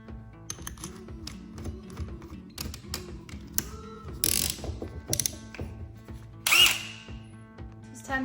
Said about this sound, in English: It's time to drill a hole in our brand new floor.